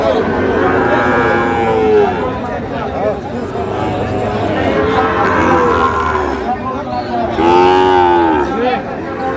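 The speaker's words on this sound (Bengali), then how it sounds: "এখানে যে গরুগুলো কিনছেন সাহাবুর ভাই কত বলছেন" Shahiwal cattle, bulls and calves, low repeatedly at a busy livestock market in Kushtia. The loud, close moos rise several times over steady crowd chatter and nearby voices.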